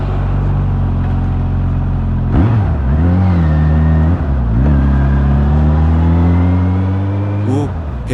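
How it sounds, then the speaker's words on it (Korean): A Suzuki GSX-S1000 motorcycle's exhaust rumbles deep and loud up close, with several throttle blips lifting the pitch briefly before it settles back to a steady idle. "오, 배기음이 좋네요."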